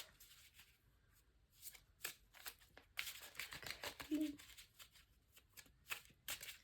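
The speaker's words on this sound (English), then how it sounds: "we're going to shuffle these up" Playing cards are riffled and shuffled in several quick, crisp bursts, close by, with a brief spoken word in between.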